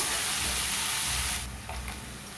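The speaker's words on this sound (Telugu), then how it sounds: "3-4 ఉల్లిపాయలు, మీడియం సైజ్ ఉల్లిపాయలు తీసుకొని ఇలా సన్నగా కట్ చేసి దోరగా ఫ్రై చేసుకోండి" Thinly sliced medium onions frying in oil in a pan for tomato rice, a steady close sizzle and hiss that drops to a quieter, softer crackle partway through, with no voices.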